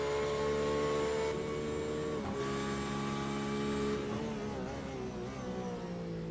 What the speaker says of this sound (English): We get the Porsche downshifts down into turn 4 and 5